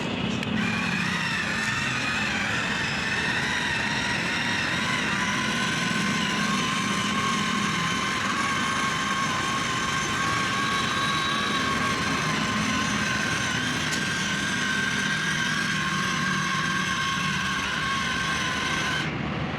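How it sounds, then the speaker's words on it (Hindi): A Swaraj 855 tractor engine runs steadily and continuously, a loud, even rumble with a droning whine layered over it, and no voices are heard. "तो हमारा ट्रैक्टर अच्छा चल रहा है"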